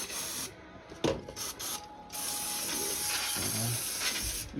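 Aerosol spray hissing in the engine bay of a Mazda 3 during a spark plug change, a steady close spray with short bursts at first, then a long continuous hiss.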